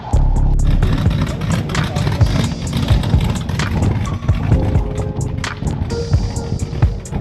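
A Honda S2000 with a full carbon fibre body idles outdoors just after a cold start, a loud, rough, steady engine rumble with a gnarly exhaust note that fills the whole stretch, close by.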